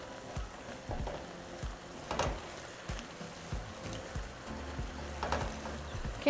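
Beef steak ranchero being stirred in a pan, meat sizzling and frying softly with intermittent scraping and stirring knocks throughout, no voices.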